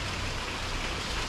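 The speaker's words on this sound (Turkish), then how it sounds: "Tam istiyorduk, yağmur hızlandı." Rain pours down steadily in a dense, even hiss with no gaps, loud and close, with no voices over it.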